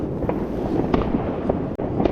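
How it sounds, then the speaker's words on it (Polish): Several sharp New Year's Eve fireworks bangs burst at irregular intervals over a steady outdoor rumble, moderately distant, heard from a lakeside pier, with no voices. "Mało fajerwerków widać, myślałem, że będzie więcej widać."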